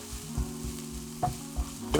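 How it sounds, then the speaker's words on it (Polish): Onion frying slowly in a pan, a steady close sizzle with periodic scraping strokes as it is stirred, no talk, ahead of ground beef being added for a quick pasta dish. "No, powoli się smażę. Przemieszam to."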